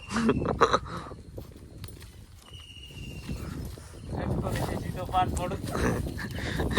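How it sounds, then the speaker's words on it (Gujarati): A mare being ridden at the Lothiya village fair in Gujarat, with hooves clopping on the ground amid a busy crowd and people talking loudly nearby. "ઘોડી લઈને હાલતા"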